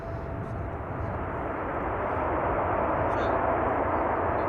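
Roar of an airliner's thrust reversers during landing rollout at Amsterdam Schiphol Airport, a steady broadband rush that holds and swells slightly, heard from a distance.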